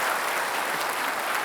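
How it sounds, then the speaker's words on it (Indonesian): Studio audience at a televised Jakarta gubernatorial election debate show breaking into dense, sustained applause, a loud continuous wash of clapping with no talk over it. "Kita kasih tepuk tangan untuk keduanya."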